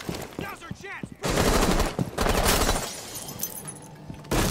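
Gunfire in the video game Rainbow Six Siege, Terrorist Hunt mode: loud bursts of rapid shots and fusillades with shattering impacts, following a brief voice at the start.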